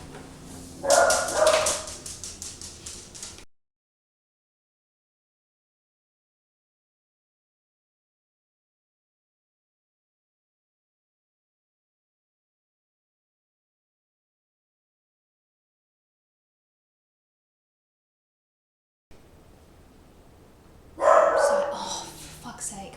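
Two small dachshunds bark in short bursts at the start and again near the end, with a long silent gap between; yips and a whimper mix in, and a person's voice is faintly present with the barking.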